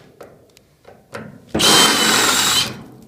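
A power drill bores out rivets in a school bus body. Two short bursts are followed by a loud, sustained grinding drill run of about a second, close and with no talk.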